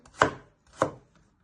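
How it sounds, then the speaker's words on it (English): A knife chops peeled carrots on a board, two crisp, close cuts about half a second apart followed by a faint third tap, with no talk. "Once you have peeled your carrots, you first want to chop them down the middle."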